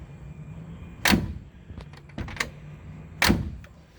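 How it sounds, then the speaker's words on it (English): A door on a 1955 Chevrolet 150 two-door post sedan shuts with a solid thunk, then a few light clicks and taps follow before a second firm close, all heard up close with no talking. "look how this door closes"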